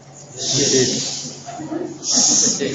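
A person imitates a snake's hiss with two drawn-out breathy hisses, close and loud, separated by a brief softer stretch.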